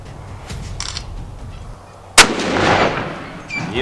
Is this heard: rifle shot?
yes